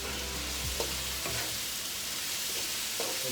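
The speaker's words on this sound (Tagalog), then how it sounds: "Stir a bit." Chicken ala king being stirred in a frying pan, a steady loud sizzle with a few soft scraping stirs of the utensil, close up and with no voices.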